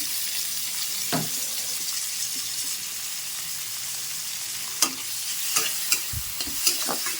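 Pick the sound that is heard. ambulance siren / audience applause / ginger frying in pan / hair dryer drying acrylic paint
ginger frying in pan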